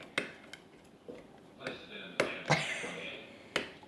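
Homemade slime is stirred after glue is added, giving sporadic sticky clicks and soft taps up close, with a faint voice in the background.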